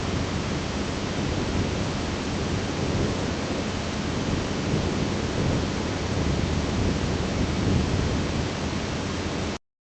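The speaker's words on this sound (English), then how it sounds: "Above, the storm begins to ease, the winds calming as quickly as they had risen." Storm sound effect with rain and thunder in a narrated island tale: dense, steady roaring rain wash with low rumbling underneath, continuous and loud for nearly ten seconds before cutting off.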